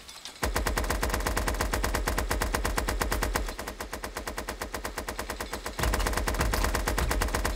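Rapid automatic gunfire in the video game Super Animal Royale, loud and sustained bursts of fast repeated shots with a brief dip and pause before firing resumes, no talk over it.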